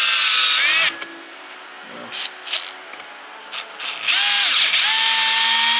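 A Milwaukee drill with a bit attachment whirs loudly in two bursts, revving up and winding down, with brief mechanical clicks in the quieter gap between, used in a bathroom under renovation.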